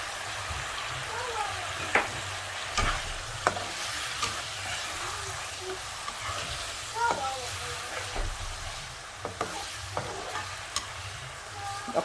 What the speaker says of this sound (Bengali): এগুলোকে আমি একটু ভালো করে কষিয়ে নেব।